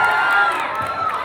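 An audience at a mimicry comedy show cheers and shouts loudly in a sustained crowd roar with whoops, close and dense throughout.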